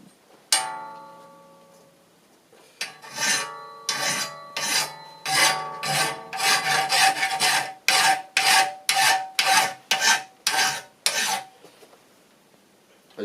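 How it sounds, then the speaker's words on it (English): Steel pizza oven door parts being hand filed: a brief metallic ring, then a steady run of about a dozen rhythmic rasping strokes, close and loud, with no talk. "So let's do a bit of hand filing."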